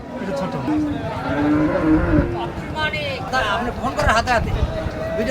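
Cattle at a busy animal market lowing in several drawn-out moos, near and loud, mixed with crowd chatter and people talking close by.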